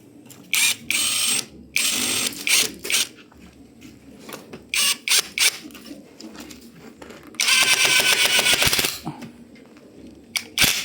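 8 by 2 inch screws being driven into a traditional sliding door, with short bursts of a power driver whirring and ratcheting, separated by pauses and handling clatter, including one longer run near the end.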